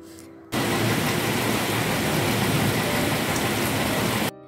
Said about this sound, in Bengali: সেই যে বৃষ্টির আওয়াজ তোমরা শুনতেই পেলে